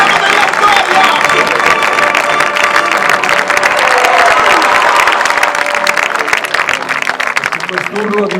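Crowd in an Italian town square applauding and cheering an Olympic champion track cyclist, dense sustained clapping and cheers throughout, loud and close, with a voice talking over it.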